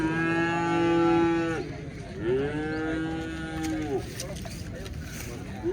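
A cow at a cattle market lows in two long, drawn-out moos, close and loud, against a murmur of crowd noise from the busy market.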